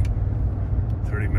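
A car accelerates onto a highway, giving a steady close road and engine rumble with broadband tire noise and a faint swell near the end.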